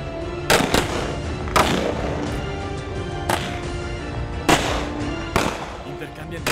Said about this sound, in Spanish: Intercambian disparos.